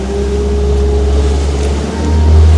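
A Daehan Marine F5 fishing boat runs slowly across a fairly calm sea. Its engine drones low and steady under constant wind and water rush, swelling louder toward the end as it gathers speed. The sound is close and loud, with no talking.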